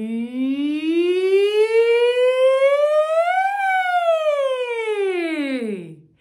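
A single voice imitates a siren, gliding smoothly up in pitch and then sweeping back down in one long, sustained, clear tone.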